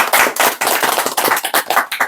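A small audience at an intimate scholarship gathering claps in uneven bursts, close and loud, the sharp hand strikes coming in clustered waves for a couple of seconds.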